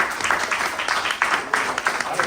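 Audience applause at a film screening and panel discussion, a steady patter of many hands clapping at moderate loudness, without voices over it.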